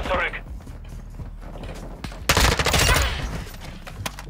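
Gunfire from a weapon in a shooter video game: a loud burst of rapid shots in the middle, with scattered mechanical clicks and quieter shots around it.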